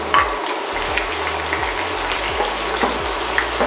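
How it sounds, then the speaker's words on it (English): A first batch of onions deep frying in hot oil for rice with lentils, giving a steady crackling sizzle with small bubbling pops throughout, close and fairly loud, with no talking. "the idea is to sort of deep fry the onions and caramelize them"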